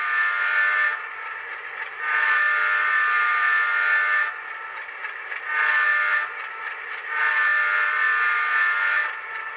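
An HO scale Rapido Trains RS18u model locomotive sounds its horn through a LokSound DCC decoder, three sustained multi-tone blasts with short pauses between them, loud and close with no voices.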